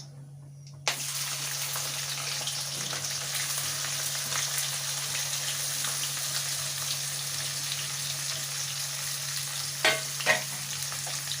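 Onion dropped into hot oil with cardamom, cinnamon and cloves bursts into a loud continuous sizzle, with a few utensil knocks near the end and no talking.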